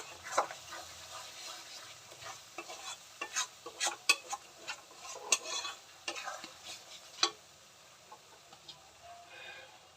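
Yogurt-marinated chicken dropped into hot oil with fried spices and fenugreek for methi chicken, sizzling steadily while a utensil clinks and stirs in sharp repeated taps, fading quieter toward the end.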